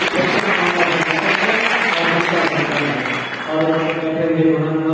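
At a large outdoor Hindu religious assembly, a crowd gives the children steady, loud applause that fills the scene. It fades toward the end as a voice starts speaking over it.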